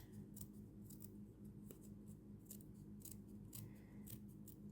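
Small scissors snip cross-stitch fabric in several quick, crisp cuts, close and quiet over a low background hum.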